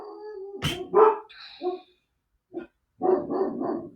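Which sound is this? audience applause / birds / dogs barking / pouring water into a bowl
dogs barking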